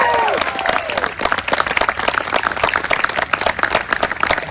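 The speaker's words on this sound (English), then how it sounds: "Can we get a huge round of applause?" Wedding guests at a beach club ceremony break into applause for the newly pronounced couple, dense steady clapping with a few voices rising over it, loud and close, after a brief spoken line at the start.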